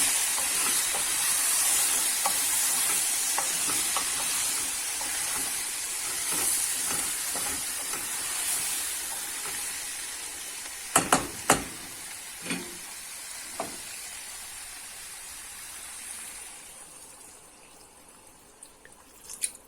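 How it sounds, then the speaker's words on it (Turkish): Borlotti beans sautéing in a pan, a steady sizzling hiss throughout with a few sharp clinks of a spoon or utensil against the pan near the end. "barbunyayı ekledim. Biraz da onunla kavuracağım arkadaşlar"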